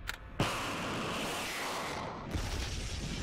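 A compact rocket sled fires on a test track: a sudden loud blast followed by a sustained roaring thrust, and then a second surge as the next stage ignites, heavy and close with no talk.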